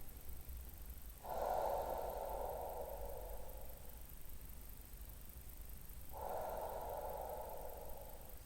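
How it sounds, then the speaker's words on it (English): Slow, deep breathing during a stretching and mobility class: two long, close breaths a few seconds apart, soft and steady, with no talking. "Slow deep breath. And exhale over and hold. Breathing slowly."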